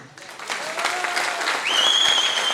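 Applause from a seminar audience in India, a steady wash of clapping with whistles and cheers rising toward the end, moderately loud and continuous.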